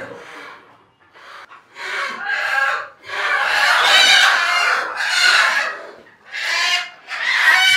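Chickens on a rooftop farm squawk and cluck loudly in frantic, overlapping bursts as they are caught, with a rooster-like cry rising among the agitated flock.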